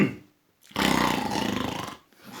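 A voice imitates a lion's roar in one sustained, rumbling growl that swells and fades, up close after a brief breath.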